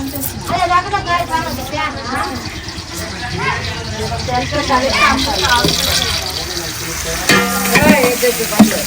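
Green chilies, onions, ginger and curry leaves fry in a pan, a steady sizzling crackle running the whole time beneath near, continuous talking voices.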